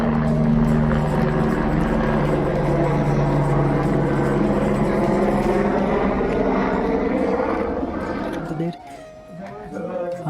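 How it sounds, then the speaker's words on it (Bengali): A helicopter flies near the Amarnath cave, its loud, steady rotor and engine drone continuous and close before dropping away sharply near the end. "হেলিকপ্টার চলেছি"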